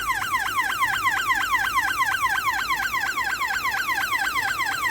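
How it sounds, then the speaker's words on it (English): An industrial door timer alarm sounds while the door stands open, a loud, continuous electronic whooping tone sweeping rapidly up and down in a steady repeating cycle, close and alone. "If it is opened, it will give alarm."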